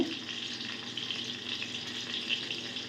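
Onions and mutton fry in a pan for a village-style mutton sambar, giving a continuous crackling sizzle at moderate level with small pops and no talking.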